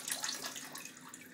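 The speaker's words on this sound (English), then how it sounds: "Here's the bidet. Thing comes out and squirts you." A Japanese electronic toilet's bidet nozzle sprays water in a steady, close hiss that runs unbroken with no talking.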